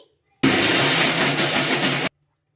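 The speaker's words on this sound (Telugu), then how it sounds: "ఇంకా ఇలానే గ్రైండ్ చేసుకోవాలి" A mixer grinder whirs loudly while dry-grinding semolina in one burst of under two seconds, starting and stopping abruptly with quiet on either side.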